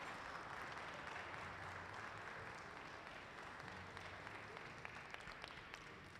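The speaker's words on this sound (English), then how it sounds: "Let's give them a round of applause for finishing our pitcher." An audience at a glassblowing hot shop demonstration claps for a finished glass pitcher, a faint, steady patter of many hands heard from a distance, continuing evenly throughout.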